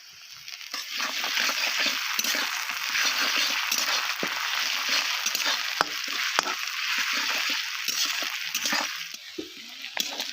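Chopped ginger, garlic and onion frying in a pan, giving a continuous bright sizzle broken by occasional stirring scrapes and soft splatters, heard close and alone.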